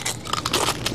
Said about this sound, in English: I'm gonna make loud crunching noises